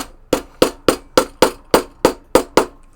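A hammer repeatedly strikes a screwdriver during pinball machine repair, ten sharp evenly spaced metallic knocks ringing out close and loud with no talking.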